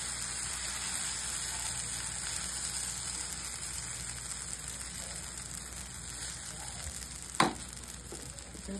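Oats chilla batter sizzles on a hot pan as a faint, even crackling hiss under a constant hum, with one sharp clink near the end.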